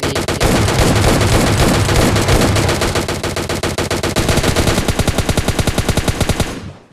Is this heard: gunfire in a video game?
yes